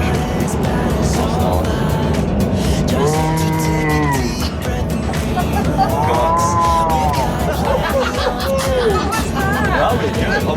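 A group of people inside a passing vehicle imitate calves mooing, with several drawn-out voiced moos rising and falling over steady engine and road noise, plus background chatter and laughter.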